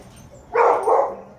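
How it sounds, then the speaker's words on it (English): A dog named Jacoby, who has trouble with people and other dogs, gives one short, loud bark or yelp that splits into two quick bursts, heard alone against quiet background. "This is with a dog named Jacoby."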